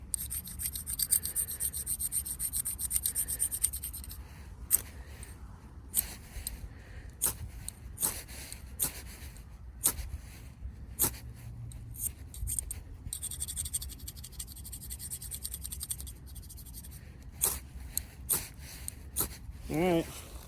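A ferro rod having its black coating scraped off, heard as repeated short rasping scrapes in an uneven rhythm, close and fairly quiet, with soft handling noises in between.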